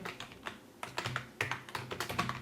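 Quick bursts of typing on a computer keyboard, close and crisp, clicking keys in an uneven rhythm with short pauses between words, with no one speaking.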